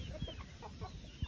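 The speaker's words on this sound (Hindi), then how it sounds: "आगे वाला मुर्गा जो जा रहा है, ये हम बलूचिस्तान से लेके आए थे।" Soft, low clucks from a rooster from Balochistan come in short irregular bursts, fairly faint against a steady background hiss.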